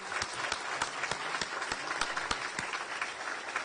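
An audience at the inauguration of a union's new executive board applauds the incoming directors, a short burst of steady clapping with a few sharper nearby claps standing out, and no talking.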